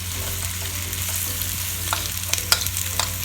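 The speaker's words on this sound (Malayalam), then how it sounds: "കുറച്ച് കുക്കിംഗ് ഓയിൽ ഒഴിച്ചു കൊടുക്കാം. അതിലേക്ക് നമ്മൾ അരിഞ്ഞ് വെച്ച ഉള്ളി," Chopped onions frying in hot cooking oil in a pan for chicken chatti biriyani, a steady loud sizzle with a few sharp crackles and pops near the end, no voices.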